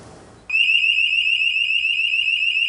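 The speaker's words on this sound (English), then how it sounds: "The fire alarm signal in this building is a siren." A building fire alarm siren during a test, starting abruptly after a moment of quiet and holding a loud, steady, piercing electronic wail to the end.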